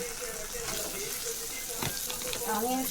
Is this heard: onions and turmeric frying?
yes